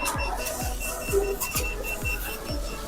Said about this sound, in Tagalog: Nag-a-alarm na siya.